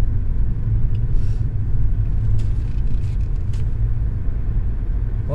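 Steady low rumble of many cars idling and creeping through a drive-through testing site, a continuous dense engine drone with faint brief higher clatter, no talk.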